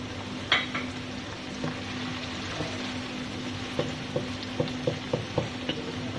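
Green chillies and chana dal roast in a hot pan with a low, steady sizzle, broken by a few sharp clicks of a spoon stirring near the end.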